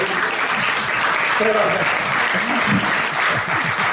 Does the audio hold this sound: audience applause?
yes